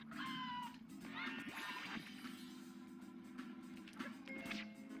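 Cartoonish cats meow in quick succession during the Alley Cats minigame of Rocket: Robot on Wheels, layered over upbeat game music with whooshes and a few crash-like hits.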